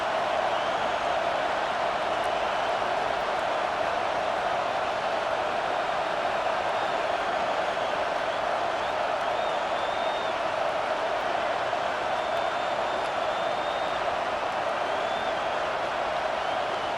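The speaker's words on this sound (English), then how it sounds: "this crowd is rising to the occasion" A stadium crowd at a football game against OSU roars in the waning moments before a big fourth down, a dense, steady wall of cheering and noise that holds at full strength throughout without letting up.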